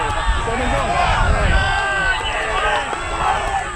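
A football crowd at a second-grade grand final cheers and shouts along the sidelines, a loud, close, continuous roar of many voices.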